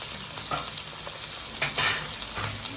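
Onions and green chillies fry in hot oil for an Andhra-style crab curry, a close, continuous crackling sizzle with stirring scrapes and one brief louder hiss burst, no voices.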